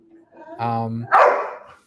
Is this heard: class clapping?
no